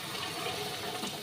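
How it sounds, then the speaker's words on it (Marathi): Hot water poured into a pan of liver curry, a steady brief rush of liquid, quiet and close. "मम्मी मस्त गरम केलेलं पाणी ह्यात ॲड करून घेते"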